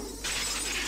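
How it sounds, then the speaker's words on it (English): Glass windows smashing in a Higurashi video game sound effect, a single loud, bright shatter bursting in after a brief low rumble and ringing on without a break. "I smashed all the glass windows too for good measure."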